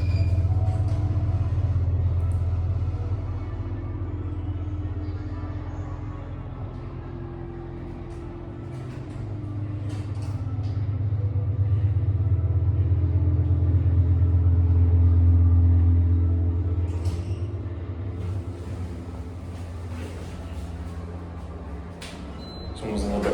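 An old Otis hydraulic elevator at a Dearborn, Michigan shopping mall runs with a low humming rumble, a little rattly, swelling and easing over its travel, with scattered clicks and knocks on top.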